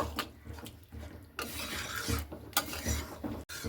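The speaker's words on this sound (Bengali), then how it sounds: "এর সঙ্গে খুব ভালো করে একটু আমি এভাবে নাড়াচাড়া করে নেব" Boiled peas with spices stirred in a pan for Bengali ghugni, giving close, soft scraping and rubbing strokes with a faint sizzle and no talking.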